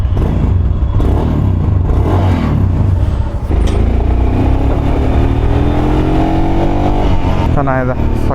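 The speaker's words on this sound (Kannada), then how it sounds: "ಎಕ್ಸಾಸ್ಟ್ ಸೌಂಡ್ ನೋಡೋದಕ್ಕೆ ಈ ಥರ ಇದೆ." Royal Enfield Scram 440 motorcycle exhaust, a steady loud engine drone throughout with rising revs near the end, close by and continuous.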